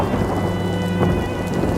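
Heavy rain pours down steadily with rumbling thunder during an outdoor crucifixion reenactment in Ruteng. The downpour is loud and close, a dense continuous hiss with a low roll underneath, and no voices.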